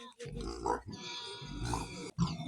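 A nutria on a village farm lets out several throaty, grunting squeaks in short bursts, fairly close, with a voice murmuring alongside.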